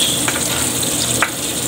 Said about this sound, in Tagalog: Lagay na natin yung bawang guys.